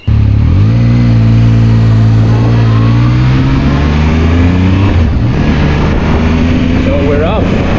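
Zontes ZT 703 F motorcycle pulling away on a road, its three-cylinder engine loud and close, revving up through gears with steady pitch climbs and a dip around a shift, over rushing wind noise.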